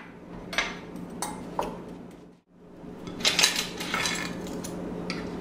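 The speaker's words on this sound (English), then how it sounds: "stir with a fork" A fork stirring crumb topping of flour, brown sugar and melted butter in a bowl, producing light intermittent metallic scrapes and clinks, briefly pausing before a busier run of scraping.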